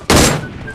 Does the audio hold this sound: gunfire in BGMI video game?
yes